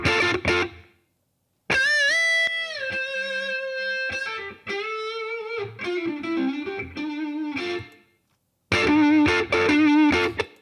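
An electric guitar runs through Amplitube 5 amp-simulation software with a small room setting and the reverb switched off. It plays sustained, bending lead notes in several bursts separated by clean silences, sounding dry, close and alone.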